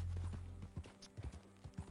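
A horse's hooves clip-clop at an irregular walking pace while it is being ridden, fairly close and moderately loud, with no talk over the steps.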